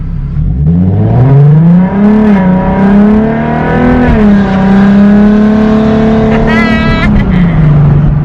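A Nissan 370Z with a Z1 cold air intake accelerates from a stop sign at night, the engine note climbing steadily and loudly in a sustained rising drone from inside the car.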